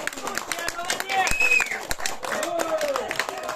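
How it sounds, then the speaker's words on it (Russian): An audience at a New Year house concert in a community arts hall applauds vigorously, with steady clapping mixed with crowd chatter, voices and a few whistle-like tones throughout. "Бурные продолжительные аплодисменты"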